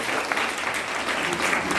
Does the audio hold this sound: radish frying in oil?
no